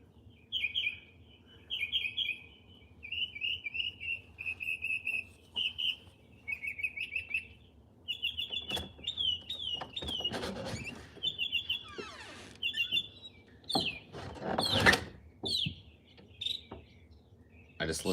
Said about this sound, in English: I just listen to birds like this guy here, this closest one that's singing